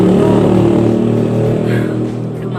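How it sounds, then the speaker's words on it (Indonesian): Motorcycles pass on a road right next to a house, their engine drone loud and close at first, then gradually fading as they move away. "jadi makanya banyak motor siwer-siwer gitu."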